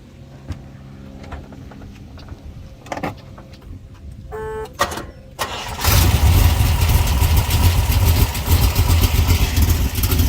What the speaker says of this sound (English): Well, it's fired up. It's basically a cold start here.